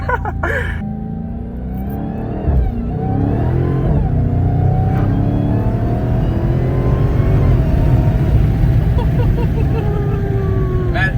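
A Dodge Hellcat's supercharged engine drones loud and close inside the car, rising and falling in pitch with a high supercharger whine sweeping over the deep exhaust rumble.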